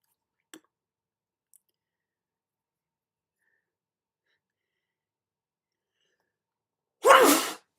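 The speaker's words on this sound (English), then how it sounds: "There we go. More sneezing." A single sharp sneeze near the end, loud and close, after long near-silence broken by a couple of faint clicks.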